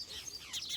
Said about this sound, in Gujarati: પોપટનો અવાજ સંભળાય છે ને કાંઈક નાની ચકલી હોય બધા અલગ અલગ કાંક અવાજ સંભળાય છે